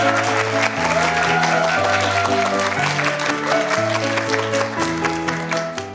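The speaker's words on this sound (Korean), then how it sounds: "원종원 교수님을 여러분 큰 박수로 모시겠습니다" A lecture-show audience claps to welcome a professor and musical critic to the stage. The applause is dense and sustained, heard alone over a steady low musical tone, and fades slightly at the end.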